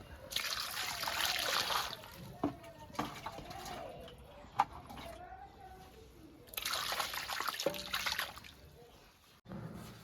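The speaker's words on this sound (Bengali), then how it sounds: "দিয়ে দেবো জল" Water pours into a pot of raw mango being boiled for homemade mango bar, in two clear streaming, trickling bursts at the start and again later, separated by quieter kitchen clatter and occasional talk.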